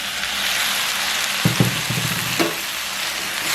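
Chopped tomatoes are frying with cuttlefish in a pan, giving a loud, steady sizzle with a few brief clatters partway through.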